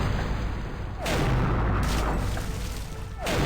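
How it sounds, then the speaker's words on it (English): Cannon fire in the pirate adventure game The Curse of Monkey Island, a few deep booming blasts spaced apart over a rumbling background, loud and close with no talk. "That was cannons."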